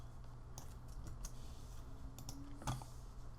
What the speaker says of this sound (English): I'll hit T on the keyboard